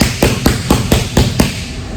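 Rapid hammer fist strikes land in a self-defense drill, about seven sharp, evenly spaced thuds in quick succession, loud and close with no talking.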